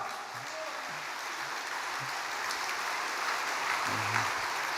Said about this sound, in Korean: 신아프리카의 제1기 연성 아카데미생들에게 박수 부탁드립니다.